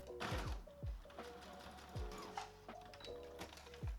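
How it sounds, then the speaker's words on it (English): A sewing machine stitches across the top edge of a sundress strap, quiet, close mechanical whirring broken by irregular thumps and clicks of the needle and fabric over a few seconds. "I'm going to do a few more stitches across the top edge here"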